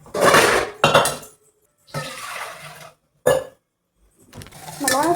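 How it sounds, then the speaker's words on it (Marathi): Pots and dishes being scrubbed and washed, with clattering metal and clinking utensils in short separate bursts broken by brief pauses, fairly close. "भांडी घासायचा प्रयत्न केला"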